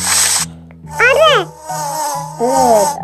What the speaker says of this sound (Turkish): Evet, arı.